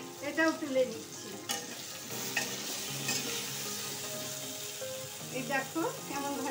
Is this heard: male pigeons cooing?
no